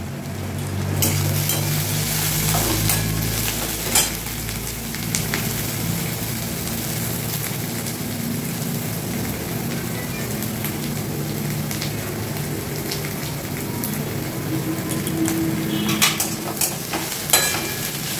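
Chopped pointed gourd fries in oil in a kadai, giving a steady close sizzle with occasional stirring scrapes throughout.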